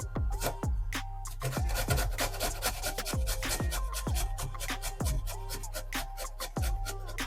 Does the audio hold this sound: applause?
no